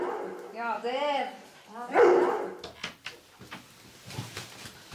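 A dog named as belonging to a fisherman at a mountain hut barks a couple of short, loud times at close range, with people talking before and around it.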